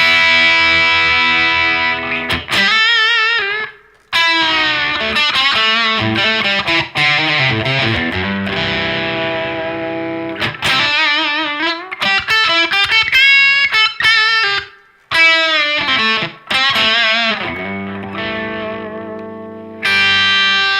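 A Harley Benton electric guitar rings out with stacked high-gain distortion, sustained chords and riffs with short breaks, loud and thick with chorus and reverb, no talking.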